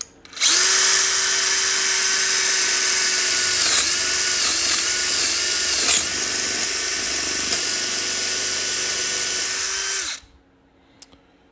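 A power drill whines loudly and continuously as it bores into material, close and steady with slight pitch dips midway, running about ten seconds before cutting off abruptly, followed by a small clack.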